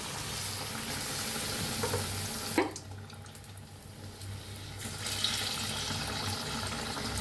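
Vada frying in hot oil gives a soft, steady sizzle and bubbling hiss, fairly faint and close, with a brief clatter partway through and the frying continuing afterward.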